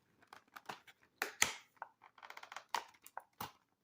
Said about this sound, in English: I'll remove the outer packaging.